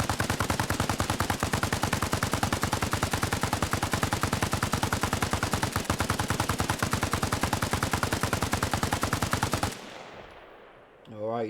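A PKM machine gun fires a long, unbroken automatic burst at an LAV-25 in Arma Reforger. The dense, loud rapid fire goes on for nearly ten seconds, then cuts off into a short fading echo and faint ambience.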